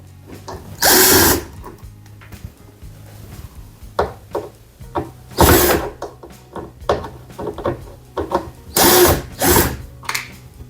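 A power drill backs screws out of the rear panel of an LG washer in three or four loud whirring bursts, with quieter clicks and handling noises between them.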